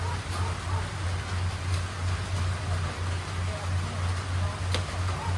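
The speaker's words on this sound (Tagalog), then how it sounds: "Ang ulan pa oh." Steady rain falls on a storm-hit farm in the Philippines, a dense, even hiss that runs throughout over a low, constant hum.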